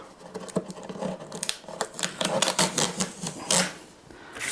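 Adhesive tape is peeled off a reverse osmosis water purifier unit in a quick series of sharp crackling rips and ticks, close and fairly loud, with short irregular pauses between pulls.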